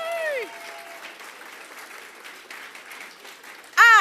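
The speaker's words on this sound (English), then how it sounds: "a massive cheer and a big round of applause to Nerve Centre" A conference audience applauds for Nerve Centre, a soft, steady patter of many hands clapping at moderate distance, with a presenter's voice briefly heard at the start and a louder voice cutting in at the very end.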